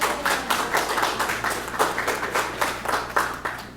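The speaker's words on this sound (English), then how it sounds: "Yes, clap for them, please." An audience claps for an event's organizing committee, a steady patter of many hands with sharper individual claps popping out, moderately close and continuous without talk.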